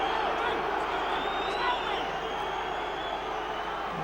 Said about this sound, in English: Crowd really behind Borough now.